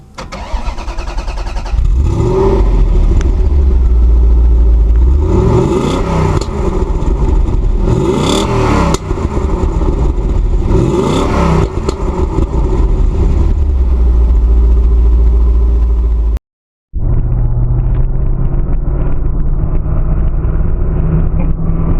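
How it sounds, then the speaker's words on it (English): A Corvette's 350 32-valve V8 revs loudly and continuously, its pitch rising and falling in repeated surges, then cuts out briefly before settling into a lower steady rumble. "Already hear that beautiful 350 32 valve V8 just singing."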